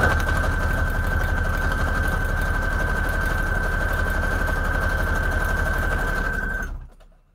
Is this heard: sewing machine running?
yes